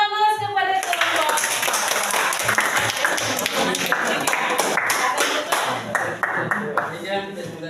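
An audience in a classroom presentation setting claps for a presenting group, a steady crowd applause of many hands that stays full and even throughout, with a faint voice underneath at the start.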